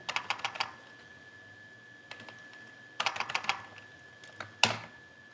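Python pandas code being typed on a computer keyboard: quick bursts of clicky keystrokes, a flurry at the start, a brief pause, another run, then a single louder key tap, close and clear with no talking.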